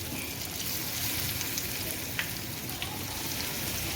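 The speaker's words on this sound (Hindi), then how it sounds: "बाकी की कटलेट्स भी हम इस तरीके से थोड़ी थोड़ी करके फ्राई कर लेते हैं" Vermicelli-coated corn cutlets fry in small batches in hot oil, producing a dense, even sizzle that hisses continuously at moderate volume with a few faint pops, and no voices.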